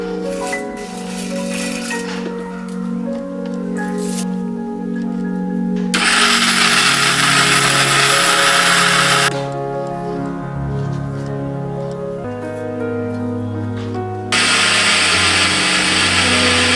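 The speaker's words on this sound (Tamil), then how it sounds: "பாதி சீனி பாதி ஏலக்காய் போட்டு அடிக்கிறோம்." A kitchen mixer grinder whirring loudly in bursts, grinding sugar and cardamom, motor pitch shifting as it runs, with a harsher grinding roar in two stretches, no talking.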